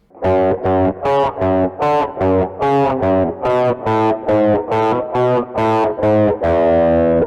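Heavy distorted electric guitar chugs through a riff, a dozen punchy chords in steady rhythm, ending on a longer ringing chord.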